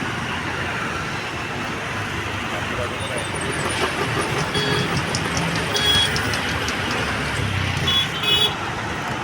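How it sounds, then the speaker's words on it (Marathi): Steady, dense traffic jam rumbles close by on Kalwa bridge during a rally, with car horns tooting now and then over the constant noise of engines. "गाड्या लागलेल्या आहेत सर्व लाईने"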